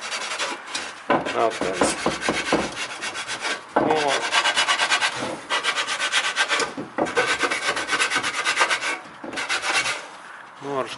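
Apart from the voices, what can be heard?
scratching a surface carefully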